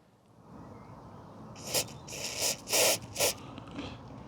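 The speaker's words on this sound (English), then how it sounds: "So let's get spraying." Aerosol anti-squeak lubricant sprayed onto the fuel flap hinge of a Nissan Primera P12 in several short hissing bursts, close and fairly quiet, with no talking.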